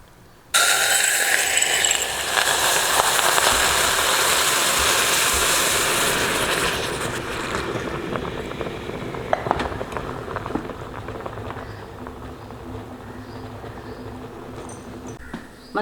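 Boiling tea poured into a heated clay cup set in a bowl for homemade tandoori chai: a loud, sudden hiss and crackling sizzle that fades gradually into a quieter, steady bubbling.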